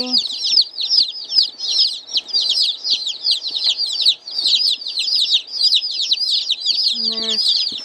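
Barred Rock and Black Australorp chicks peep continuously in a dense, shrill chorus close by, with a brief low voice-like sound near the end.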